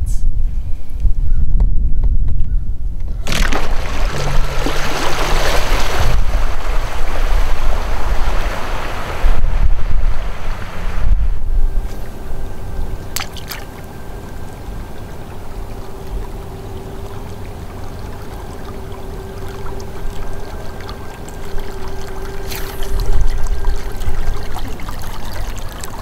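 A fishing boat heads out of a tidal creek toward the flats in North Florida, its engine droning under heavy wind buffeting and splashing water, the motor hum steady through the middle and the wind gusting loudly throughout.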